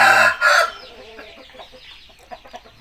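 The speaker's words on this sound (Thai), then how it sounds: "อายานตัวนี้เป็นไก่ ไก่เลียมนะครับ" A chicken gives a couple of loud, close calls, followed by softer scattered clucking.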